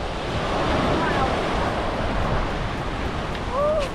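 Strong wind buffets the microphone at seaside tide pools, a steady roaring gust with surf-like wash throughout, loud and continuous, with a faint voice briefly audible near the end.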